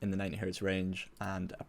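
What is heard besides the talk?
None of the usual background noises is heard.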